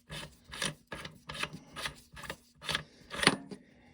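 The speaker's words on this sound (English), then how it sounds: "So to take it apart, you take that nut off" A nut being worked off a Citadel PAT 12 gauge shotgun during disassembly, heard as about seven rhythmic rasping, scraping strokes of metal on metal, close and fairly quiet, with no talking.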